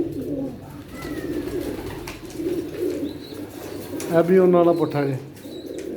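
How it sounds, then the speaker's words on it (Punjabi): A Muggar pigeon coos among a loft of Teddy pigeons, with someone talking over the bird sounds. Soft calls run underneath, and a clearer, louder coo comes near the end. "ਇਹ ਇੱਕ ਮੁੱਗਰ ਕਬੂਤਰ ਵੀ।"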